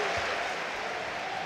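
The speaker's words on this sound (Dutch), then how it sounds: "Waarbij het applaus van de PSV-fans komt." Soccer crowd of PSV fans applauding in the Eindhoven stadium during a PSV versus Ajax match, a steady, distant wash of clapping that fills the whole moment.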